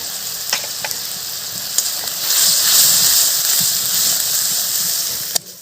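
Spices with salt and turmeric fry in hot oil for a fig curry, a steady close sizzle with a few sharp clicks of a spoon against the pan and a louder hiss swelling midway.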